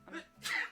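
A single quick sneeze nearby, a short intake followed by a sharp, breathy burst.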